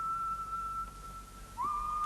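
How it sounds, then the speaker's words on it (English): A man whistles a tune: one steady sustained note that holds for over a second and a half, then drops and continues at a slightly lower pitch, clear and fairly close over a quiet background. "Each time he starts to whistle one of his tunes"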